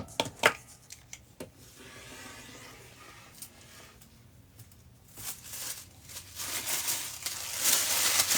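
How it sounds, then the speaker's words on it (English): Scissors snip excess paper off a sewing pattern during a full bust adjustment, giving scattered close cuts and paper rustles that grow denser and louder toward the end. "I'm just cutting off excess paper here."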